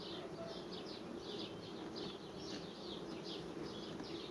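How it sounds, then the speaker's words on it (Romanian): Bees swarming around a hive during a complex merging of a large queenless colony, a steady dense buzzing hum with nearby bees passing close, continuous throughout. "Toată albinuța vine aici."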